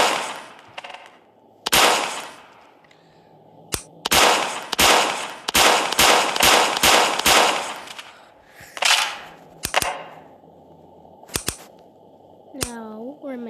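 Repeated sharp gunshot blasts from an auto shotgun in the Melon Playground video game, some fired singly and some in fast bursts, loud and close, with brief gaps between volleys and a rising electronic whoosh near the end.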